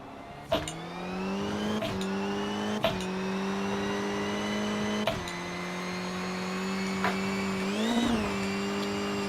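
A Rally2 car in WRC Generations holds a steady high engine drone topped out in fifth gear, a loud sustained whine with a few brief clicks and a small pitch wobble near the end.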